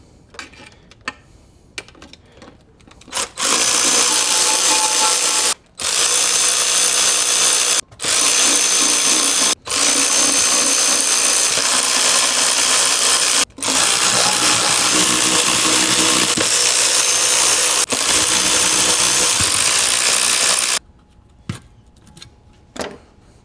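A power tool, likely an impact or drill driver, whirs loudly and continuously in long bursts with brief pauses, breaking old half-inch bolts loose on a car in a workshop.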